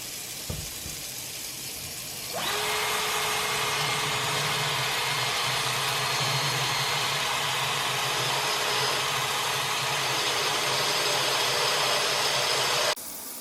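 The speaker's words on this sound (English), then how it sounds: "let's head over to the sink and start drilling" A power tool starts up and runs in one continuous high whine for about ten seconds, then cuts off abruptly.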